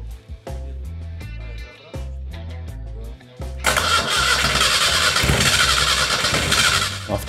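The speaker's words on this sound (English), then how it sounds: "First attempts are a failure. Almost no combustions are heard." A car engine mounted on a homemade scooter cranks with a starter in repeated rhythmic bursts without catching, and then a louder, rougher churning follows as the starter keeps turning with only a few weak combustions.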